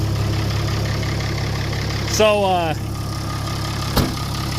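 A tractor engine idles steadily with a low, constant rumble throughout, needing service and with alternators not charging properly; someone speaks briefly over it.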